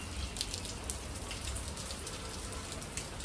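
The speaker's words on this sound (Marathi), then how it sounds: "छान असा पाऊस पडतोय" Rain falls steadily, a close, continuous patter of drops hitting surfaces, with no voices.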